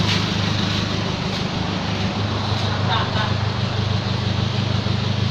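A diesel car with a small turbo runs with a steady, low, droning engine rumble, while people talk over the sound nearby.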